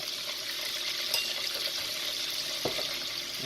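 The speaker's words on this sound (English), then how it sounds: "take our half cup of Franks RedHot, pour it in there" A half cup of Frank's RedHot sauce is poured into melted butter with a steady liquid trickle, plus a couple of light clinks from the container against the dish.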